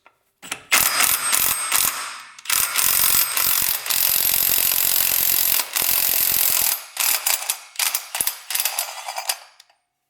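A ratchet works a bolt on a CFMOTO UTV with rapid, close clicking in several long runs and shorter bursts with short breaks between them.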